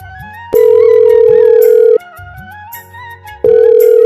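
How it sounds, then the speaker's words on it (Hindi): Repeating electronic telephone ringtone, a loud steady tone sounding in long bursts separated by short pauses, with a faint melodic electronic tune underneath. "किसी का फोन आ रहा है"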